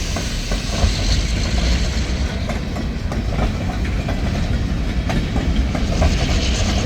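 Empty freight cars, gondolas among them, roll steadily along the rails near Pembine, a continuous loud rumble with scattered wheel clatter and faint hiss and no pauses.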